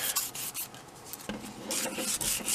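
Sandpaper is rubbed over the painted border of a photo frame in short, rasping strokes, close and fairly quiet, with brief pauses between passes.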